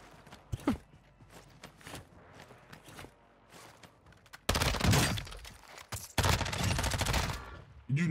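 Gunfire from a fast SMG in Warzone 2, scattered quieter shots and footsteps giving way to two loud, dense bursts of rapid fire near the end.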